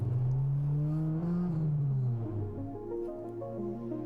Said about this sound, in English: warming up the tires